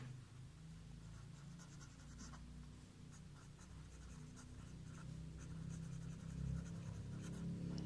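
A pen scratches steadily across paper while a maths exercise is worked out, a faint, continuous close-up scraping with small bursts of stroke noise and no speech.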